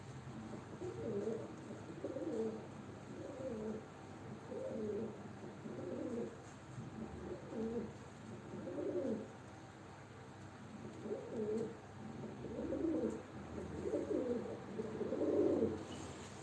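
Several tumbler pigeons coo in a steady repeating pattern of soft, low, throaty phrases, faint and fairly close, heard over a quiet background hum.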